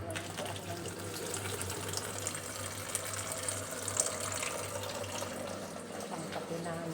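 Water runs steadily from a tap in a continuous splashing stream, with faint voices and clatter in the background.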